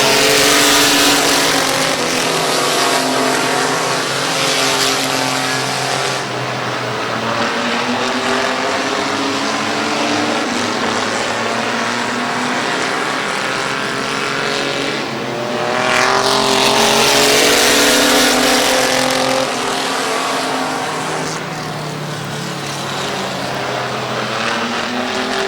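Race cars roar around the Midvale Speedway track in a steady, loud engine drone that swells and fades as cars pass, with a surge of a nearby car partway through and lapped traffic in the mix.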